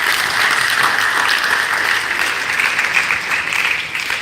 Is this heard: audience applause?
yes